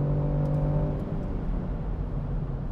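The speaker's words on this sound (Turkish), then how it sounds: "biraz motorun sesini dinliyoruz" Land Rover Defender P300 SUV engine heard from inside the cabin while accelerating, a steady droning hum and whir with a rising tone that smooths into broad road rumble, continuous and fairly loud, with no talking.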